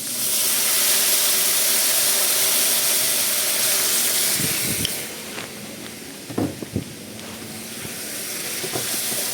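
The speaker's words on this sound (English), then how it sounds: "Then we want to put some white wine." White wine poured into a hot pan of sizzling bacon, a loud steady hiss at first that eases into softer frying with a few scattered pops and clinks.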